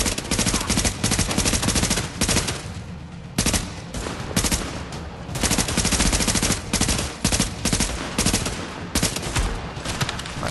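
Loud automatic gunfire from a firefight in the video game The Division, long dense bursts of rapid shots close up with brief pauses between volleys, alone without talking.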